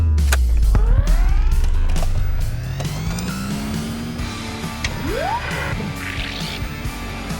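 A Roger Penske-entered NASCAR stock car driven by Rusty Wallace roars along a track's front stretch, its engine pitch rising and falling as it passes, loud and close at first and then fading.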